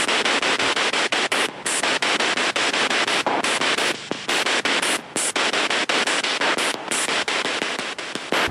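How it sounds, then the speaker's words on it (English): A spirit box scanning through radio static on a ghost hunt in Bucksport, giving loud continuous white-noise hiss broken by short dropouts and clicks, with no voices. "During the spirit box session, there were no responses. All you could hear was static."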